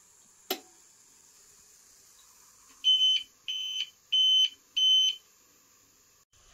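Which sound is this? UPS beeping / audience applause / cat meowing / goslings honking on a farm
UPS beeping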